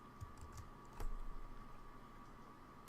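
Typing code on a computer keyboard, light quick key taps coming in short bursts that are faint and fairly close, with no talking heard over them.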